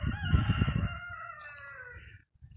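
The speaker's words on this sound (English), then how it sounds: "Yeah, here's all our chickens." A rooster crows once up close among a flock of farm chickens, a long drawn-out call fading away, with low clucking underneath at the start.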